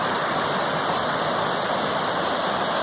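A river rushing over rocks beside riverside cabins on the Appalachian Trail, a steady broadband roar of flowing water heard close and continuous, with no voices.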